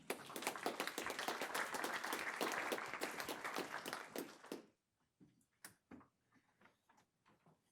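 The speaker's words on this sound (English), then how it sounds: "if you could give our speakers a round of applause, I'd appreciate that" A room of attendees at a county board educational meeting gives the speakers a round of applause, dense clapping for about four and a half seconds before it dies away to a few scattered last claps.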